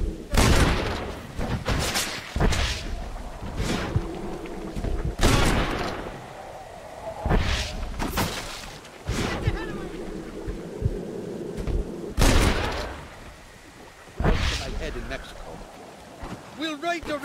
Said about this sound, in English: Jesus, they're shooting at us!